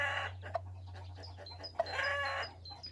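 A broody hen clucks to her chicks in short bursts, a few soft clucks close by with quiet pauses between them.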